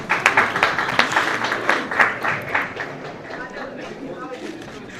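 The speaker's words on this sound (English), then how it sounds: "Give him a nice applause." An audience claps at an Eid al-Fitr celebration in Brooklyn, a burst of lively nearby applause that thins out over a few seconds, with voices mixed in.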